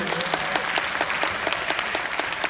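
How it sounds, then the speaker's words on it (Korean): Audience applause at a Korean business seminar for a Nu Skin distributor event: steady clapping from a crowd lasting a couple of seconds, dense and even with individual claps standing out, no speech over it. "박수 치시는 분은"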